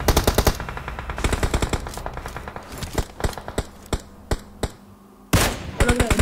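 Rapid automatic gunfire in a shooter game, dense bursts of sharp shots early on, then thinning to scattered single cracks and a brief lull before another loud burst near the end.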